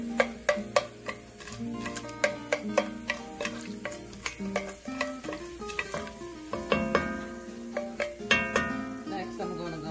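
Curry chickpeas cook in a pot on a stove set to low, with a soft sizzle under a steady run of spoon-against-pot scrapes and taps.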